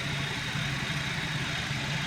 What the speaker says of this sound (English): you can see this engine runs great